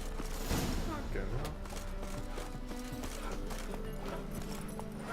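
Horse hooves clip-clop at a steady riding pace through The Witcher 3, with game music and ambient tones running beneath and a brief snort early on, and no talk over it.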